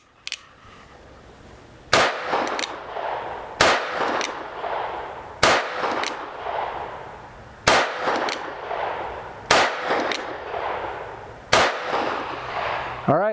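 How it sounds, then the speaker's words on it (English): Six sharp, loud shots from a Cimarron Model P revolver in .44-40 (44 WCF) fired offhand at a target, spaced roughly two seconds apart, each crack trailing into a brief ringing decay. "Okay, here we go. 6 shots, body shots right there, center mass, and we'll see how it does."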